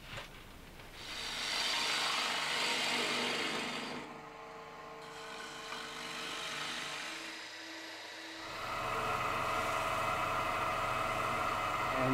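Hollowing the middle of a wooden dice bowl on a lathe produces a soft, steady scraping and rubbing of a tool cutting wood, in several passes with brief pauses between.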